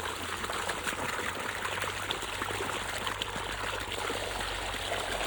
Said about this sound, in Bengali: আমি এখন এই পাইপের জল খাবো